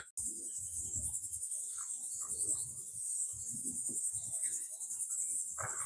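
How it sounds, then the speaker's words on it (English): Steady high, dense buzzing of cicadas in trees at Back Bay National Wildlife Refuge fills the background throughout, with faint rustling and scattered low movement noises underneath. "the awesome sound of the cicadas in the trees"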